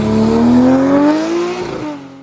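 An inline six-cylinder car engine revs hard at high revolutions, a loud smooth metallic wail climbing in pitch, then easing off and fading as the revs drop near the end.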